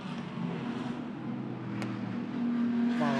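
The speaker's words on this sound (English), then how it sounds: "We get 2 laps with the GT3 cars" GT3 race cars circling the Macau Guia street circuit, engines droning and rising in pitch as they accelerate, a steady motorsport roar heard from trackside.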